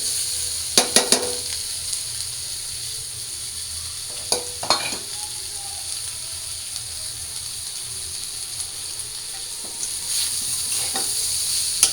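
Mixed vegetables frying in a pan, with pumpkin already fried and bitter gourd and potato being added: a steady soft sizzle with a few sharp clatters of utensil and pan near the start and middle.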